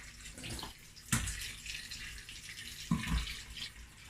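Seafood rinsed under running tap water in a sifter, a steady broadband splash with two sharper knocks as the pieces shift, close and alone without talk.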